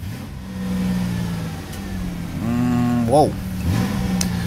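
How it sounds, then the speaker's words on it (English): A 2010 Dodge Caravan with 95K miles, being parted out, has its engine revved: idle rising into two quick revs that climb and fall, with a brief exclamation from a voice near the end. "that's what it sounds like when you rev it up"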